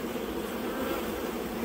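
Honey bees from a likely queenless colony in an apiary hum in a dense, continuous buzz, close and steady, with no voices.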